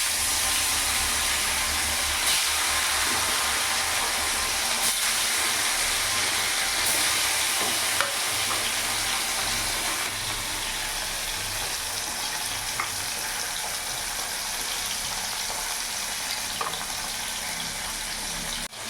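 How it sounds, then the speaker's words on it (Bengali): Bata fish frying in hot oil in a pan, a dense, continuous crackling sizzle that stays loud and close for the whole stretch, with faint occasional pops and no talk. "মাছটা আমার ভাজা হয়ে যাক"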